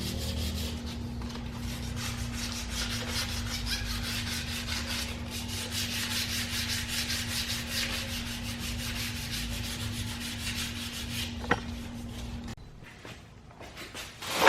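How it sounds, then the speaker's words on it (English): Hand sanding body putty over curb rash on an aluminum wheel: a steady, close, continuous rasping scrub for about twelve seconds, with a faint hum underneath, before the rubbing stops and a soft knock follows. "I sanded that pretty smooth."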